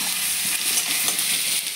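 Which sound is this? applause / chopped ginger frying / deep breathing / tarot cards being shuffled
chopped ginger frying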